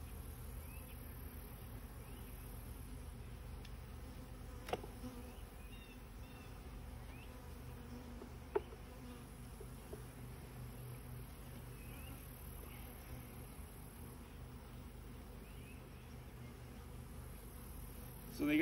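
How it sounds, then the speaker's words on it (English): A faint, steady insect drone of honey bees hums around an open, thinly populated hive, with a couple of sharp knocks and a louder rustle at the end; no one speaks. "There is significantly less bees in this hive as well."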